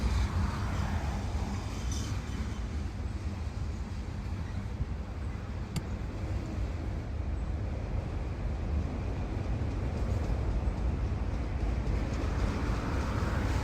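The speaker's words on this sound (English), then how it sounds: "at least 10 train noises." A steady rail-yard rumble carries on unbroken, moderately loud, with broad low roar and faint hiss, and a brief sharp high click near the middle; no one speaks.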